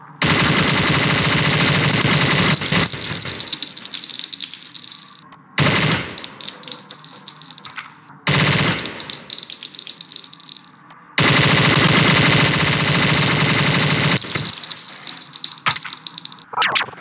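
Cartoon-style gunfire from shooting rattles in long, loud, harsh bursts, four dense volleys broken by brief silences, with metallic jangling textures running through them.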